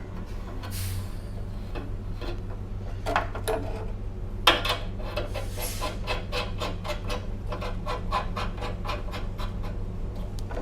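Small metal fittings are threaded and wrenched onto a transmission cooler for a 2006-10 Charger R/T, producing close, light metallic scratches and clicks, with a run of rapid ticking strokes later on over a faint low hum.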